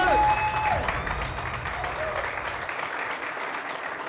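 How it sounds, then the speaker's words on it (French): A studio audience applauds a guest on a French-language interview show, a dense sustained round of clapping that stays loud and steady throughout, with some voices mixed in underneath. "est-ce qu'on peut encore avoir un tonnerre d'applaudissements pour monsieur?"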